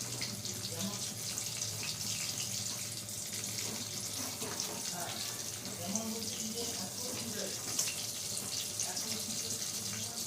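Pointed gourd (parwal) slices frying in a pan, a steady soft hiss and crackle running throughout, with a voice talking faintly over it.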